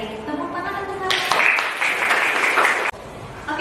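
A group of people at a university teacher-training session applauds in a short burst of clapping that follows talk and ends abruptly near the close.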